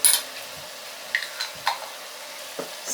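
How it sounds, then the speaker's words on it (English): Chipotle pepper being stirred into chow mein in a frying pan, a soft hiss of sizzling under a few light clicks and scrapes of the utensil against the pan. "Stir it in."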